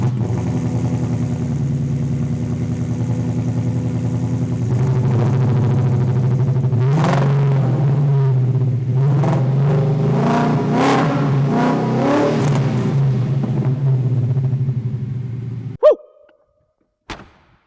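Black 1968 Ford Mustang Fastback with a Velocity Street Series build, its engine idling with a deep burble, then blipped through several sharp revs before cutting off abruptly near the end.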